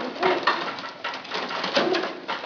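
An ash red bar spread homozygous Grizzle pigeon, mostly white, coos in soft repeated low throaty phrases, close and fairly quiet, with no talk over it.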